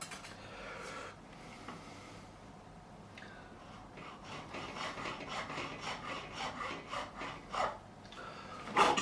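Small file rasping back and forth in the nut slot of a Fender Jim Root Telecaster, a faint, dry scraping in short strokes that quickens and grows slightly louder toward the end.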